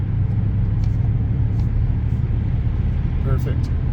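A car cruising on a highway, heard from inside the cabin as a steady loud low road rumble and tire roar, with some faint brief noises on top and no talk.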